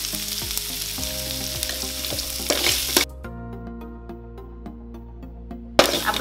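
Chopped onion sautés in a hot pan, crackling and sizzling continuously up close, with a few scraping stirs of a spoon and a short quieter stretch before the sizzle returns.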